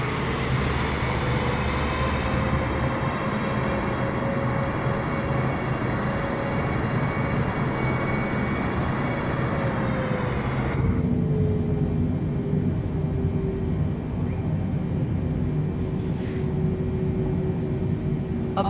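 A heavy airliner takes off in Microsoft Flight Simulator 2024, departing Anchorage, Alaska: a loud, steady engine roar with a rising whine, which shifts to a duller rumble partway through.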